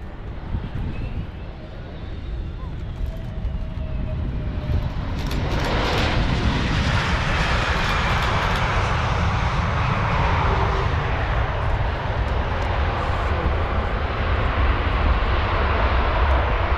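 An F-15 fighter jet taxis across a runway at an airshow, its engine a loud, steady roar that swells and holds, heard from a short distance with wind noise.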